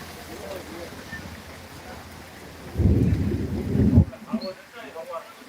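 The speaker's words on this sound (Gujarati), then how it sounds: "ગાજવીજ સાથે વરસાદ" Steady rain hiss in Surva village with a loud rumble of thunder rolling in for about a second, then fading back to the rain.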